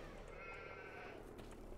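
Sheep in Farming Simulator 2015 bleat faintly within a dense, continuous wash of ambient farm noise, the calls soft and blended rather than distinct.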